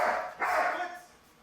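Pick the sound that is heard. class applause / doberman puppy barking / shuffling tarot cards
doberman puppy barking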